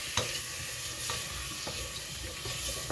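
Onions sizzle and fry in a pan, a constant crackling hiss broken by occasional sharp scrapes and taps of stirring, close and fairly quiet.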